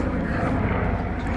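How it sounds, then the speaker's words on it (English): Steady low engine roar from an aircraft, likely a helicopter passing overhead, filling the whole moment with a constant broadband drone and no break. "Helicopter, look at that."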